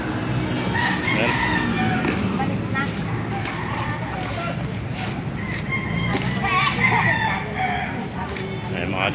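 Several Lemon Sweater gamefowl roosters crow repeatedly and cluck at a farm in Baliwag, Bulacan, a dense overlapping chorus close by, with someone talking throughout.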